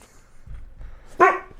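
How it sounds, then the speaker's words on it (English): One short, loud dog bark rings out after a few faint low thumps, with no talk over it. "and dogs barking"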